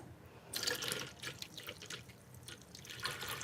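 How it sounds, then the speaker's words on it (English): Coffee poured into a cup, close splashing and trickling bursts of liquid with short pauses between pours, alone without talk. "So I'm pouring my coffee in."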